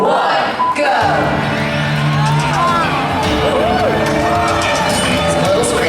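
At a Fear Factor Live stunt show at Universal Studios in Orlando, Florida, a person screams repeatedly over a loud, constant crowd din of cheering and shouting, with voices layered throughout.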